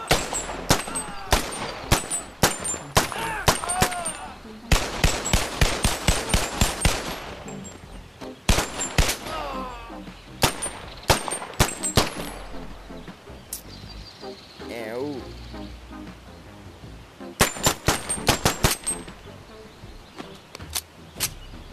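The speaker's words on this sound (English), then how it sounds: "we're gonna do a shooting test against these two Fords" Bursts of rapid automatic gunfire in the VR game Bonelab as two Ford cars are shot at, with loud close volleys separated by pauses and a few quieter stretches.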